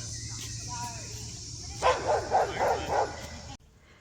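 Dogs on a neighborhood walk give a short run of a few yips and barks at middle distance, over a steady outdoor hum with faint background voices.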